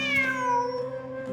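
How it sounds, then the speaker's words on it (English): A cat in the video game Genshin Impact gives a single clear, close meow that slides downward over about a second, alone against a quiet background. "Wait, there it is! The cat!"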